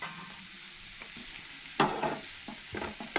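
A spoon stirs masala and turmeric into a tomato and onion mixture frying in a pan, with a soft steady sizzle under a few scraping strokes, close and fairly quiet.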